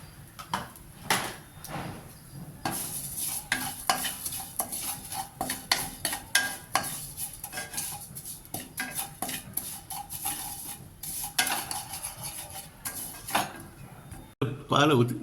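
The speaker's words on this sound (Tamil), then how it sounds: "சேமியா கொஞ்சம் வறுத்துக்கலாம். கொஞ்சம் சிம்மில் வச்சுக்கலாம்" Vermicelli being roasted in a pan on a low flame for payasam, with rapid clattering stirs and metal utensil knocks against the pan, a faint sizzle, and intermittent speech.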